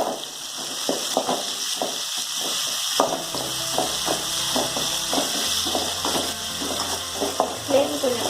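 Sliced onions and chopped tomatoes sauté in a pan for a Tamil chickpea kurma, with a steady close sizzle, the scrape and clack of a stirring spoon, and a low hum in the background.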